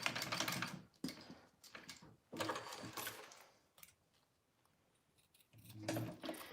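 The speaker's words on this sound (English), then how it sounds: "All right, and then just sew that zipper tab on." A sewing machine stitching a zipper tab onto a fabric wallet: several rapid, clattering bursts of needle action separated by short pauses, close and fairly quiet, with no talking.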